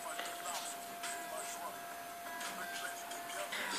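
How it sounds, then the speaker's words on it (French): A constant whirring hum of a vacuum cleaner running nearby, with a faint voice speaking underneath. "désolé pour le bruit d'aspirateur"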